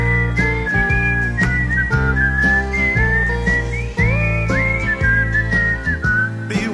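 Whistling carries a melody at a 1987 rock concert at Six Flags New Jersey, loud and sustained over steady band backing, with the audience invited to whistle along.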